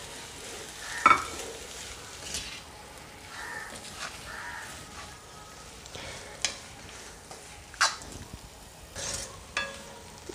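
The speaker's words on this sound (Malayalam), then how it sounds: "ഇതിലേക്ക് ബീഫ് ഇട്ടതിന് ശേഷം നല്ലവണ്ണം ഒന്ന് ഇളക്കി കൊടുക്കാം" Minced beef stirred into frying masala in a pan, a low steady sizzle with occasional scrapes of the spoon, and a crow cawing now and then in the background.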